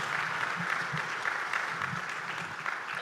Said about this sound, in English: Please give your round of applause.